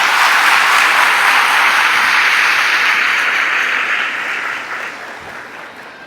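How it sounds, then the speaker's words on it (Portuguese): A church congregation applauds loudly in dense, sustained clapping that gradually fades over six seconds. "Vamos aplaudir a palavra do Senhor bem forte, bem forte, bem forte"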